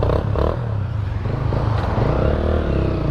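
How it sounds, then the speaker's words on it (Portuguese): A motorcycle fitted with a Roncar aluminium exhaust revs up close by, with a few quick throttle blips followed by a loud, steady rumbling drone. "queria compartilhar com vocês aí escapamento Roncar alumínio"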